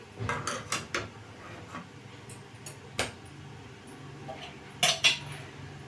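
A metal spoon scrapes and clinks against a cooking pan while scooping out excess oil before frying taro root, giving several sharp separate taps and knocks in irregular bursts over quiet kitchen background.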